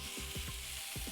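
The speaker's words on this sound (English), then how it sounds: "That nice little sizzle." Pork chops sizzle steadily in a hot pan, a close, continuous frying hiss with soft crackles and a few low thumps from the pan, and no voices.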